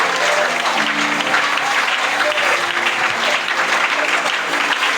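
A church congregation applauding: dense, loud, continuous clapping that fills the room, with voices and singing faintly mixed in underneath.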